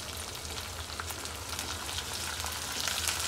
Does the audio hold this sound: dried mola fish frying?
yes